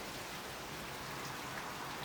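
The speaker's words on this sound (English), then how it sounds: "the rain's pouring down behind me" Rain pours down outdoors as a steady, dense hiss of drops, with no other sound standing out.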